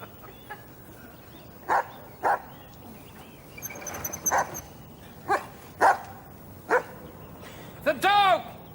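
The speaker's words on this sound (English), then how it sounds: "The dog! Can someone get the dog?" A dog barks in short loud bursts, about six or seven over several seconds, amid a tense outdoor scene with people shouting for help in the background.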